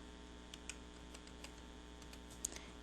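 Computer keyboard keys tapped while entering commands in AutoCAD: a few faint, sparse clicks over a steady low electrical hum, with one sharper keystroke near the end.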